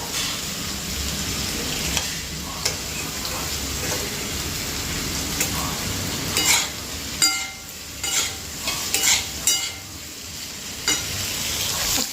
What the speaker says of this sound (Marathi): बटाटा मस्तपैकी फ्राय झालेले आहे